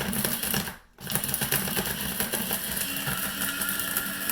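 A grinder runs continuously, grinding homemade seasoning, with a steady dense whir broken by one brief pause near the start before the motor noise resumes at an even level.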